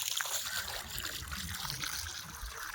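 Water runs steadily onto a freshly cast concrete house slab being flooded for curing, a continuous close trickle and splash with low background rumble.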